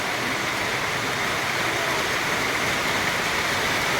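Heavy rain pouring down over a flooded rice field ahead of a typhoon, a dense, unbroken hiss of falling water that stays loud and even from start to finish.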